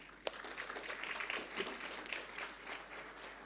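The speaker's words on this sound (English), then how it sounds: "Please let's give them a round of applause" Audience at a land, life and society conference plenary giving a round of applause, a quiet, distant, even patter of many hands clapping, opened by one sharp clap.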